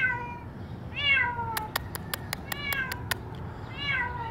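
A cat trapped in a drained swimming pool meows repeatedly, two or three drawn-out rising-and-falling cries, close and clear, while sharp clicking taps sound in between.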